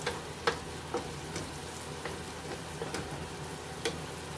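Tomato paste sizzles and fries in a pan for red pepper pasta sauce, a steady crackling hiss broken by a few sharp pops and stirring clicks, close and alone.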